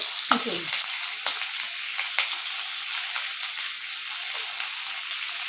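Two onions sizzle and fry in a pan until light brown, a steady crackling hiss with occasional stirring scrapes, close and continuous with no talking.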